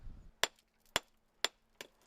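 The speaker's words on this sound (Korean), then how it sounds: "늘 가지고 다니던 망치로 암석을 깨기 시작한" A geologist strikes rock with his hand hammer outdoors on a pebbly shore on Ulleungdo, making four crisp, evenly spaced metallic cracks about half a second apart, close and clear with no talking.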